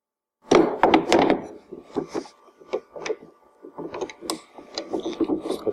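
A pin pushed into a vz. 59 machine gun, a run of sharp metallic clicks, knocks and rattles of parts being handled, close and loud at first, then lighter irregular taps, with no talk.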